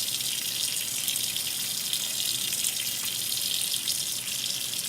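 Running tap water pours steadily as hands are washed under it, a continuous close hiss with no talk.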